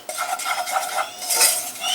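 A utensil stirs melted butter and flour into a thick paste in a pan for an egg and cucumber sauce, with quick, busy scraping and clinking that rise and fall over two seconds without talk.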